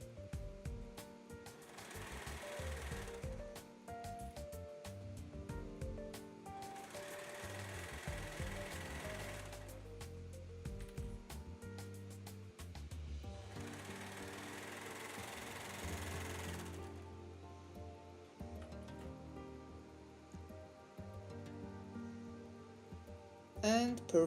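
A sewing machine stitches the seams of a Christmas sweater, whirring in several runs of a few seconds each with quiet pauses between them, heard close and fairly soft.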